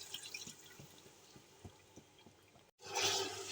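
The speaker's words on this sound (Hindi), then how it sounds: "1 कप पानी शामिल कर लेना है।" A cup of water poured into a pot of washed, cut beef for beef pulao, a low sizzle and trickle giving way near the end to a louder rush of liquid after a brief pause.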